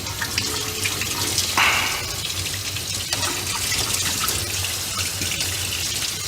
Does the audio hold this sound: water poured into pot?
yes